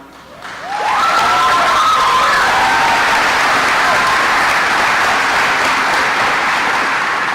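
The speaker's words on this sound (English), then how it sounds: "if we could hold applause till the end of the names for each scholarship" Graduation ceremony audience breaks into sustained applause after a brief quiet start, a dense wash of many hands clapping at once that stays loud and steady to the end, with a few voices faintly mixed in.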